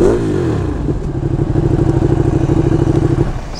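A used superbike, stock exhaust, idling and revving close by, a loud throbbing engine with a steady pulsing rhythm and slight rise in pace, no talking over it.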